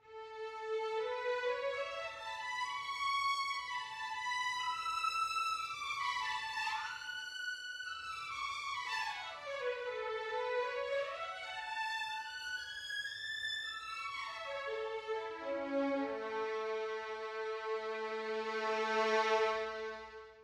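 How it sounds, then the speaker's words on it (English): Orchestral Tools Berlin Strings glissandi patch, with a string section sliding smoothly up and down in long sweeping swoops, then settling into held low notes, soft and alone. "A really cool glissandi patch."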